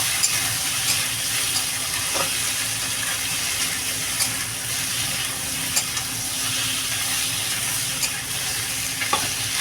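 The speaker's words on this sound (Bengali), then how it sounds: "ভালো করে মশলার সাথে এটা ভালো করে কষিয়ে নেব" Taro being sautéed with spices, including cumin powder, in a pan for a rohu fish curry, a steady close sizzle with periodic scraping stirs of the spatula.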